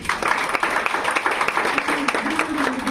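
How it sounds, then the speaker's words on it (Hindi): A crowd at a motivational talk breaks into loud, sustained applause, dense and continuous clapping filling the room, with a few voices cheering underneath. "जोरदार ताली"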